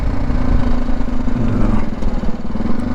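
A motorcycle engine runs steadily during a ride, a close, loud, low droning hum with a slight rise and fall in pitch.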